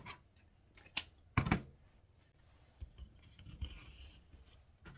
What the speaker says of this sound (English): I'm going to trim off the ribbon